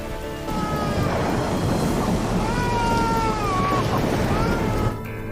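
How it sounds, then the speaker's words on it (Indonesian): Heavy rain pours down in a thunderstorm from The Walking Dead season 5, a dense, loud steady roar with a low rumble beneath, accompanied by faint tonal wails like music or wind. "Hujan lebat yang kemudian membawa badai."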